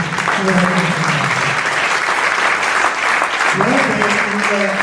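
An audience applauds at a literary award ceremony in Verona, dense steady clapping filling the room at full volume, while someone speaks over it.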